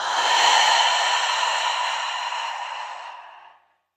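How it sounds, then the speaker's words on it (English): A long, steady exhale of breath during a calm meditation session, close and breathy, fading out over several seconds into silence. "Do you want to take a deep breath with me? Exhale."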